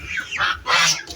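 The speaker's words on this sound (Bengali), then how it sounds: "আর রাজহাঁসগুলো এই দিক দিয়ে পুকুর থেকে উঠে আসতেছে" Domestic geese at a farm pond honk as they climb out of the water, two loud nasal calls close by, with no speech.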